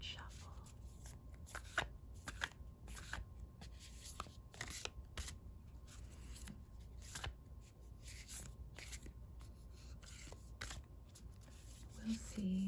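Oracle cards are shuffled lightly and close by, in repeated soft riffling bursts spread evenly over several seconds.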